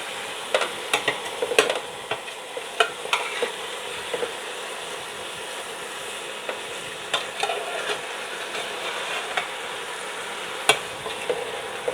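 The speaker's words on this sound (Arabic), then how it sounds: "باخدها كده تقليبه" A spoon scrapes and clacks intermittently against a pot while cooked cow trotters are stirred, with a soft sizzle running underneath and no talking.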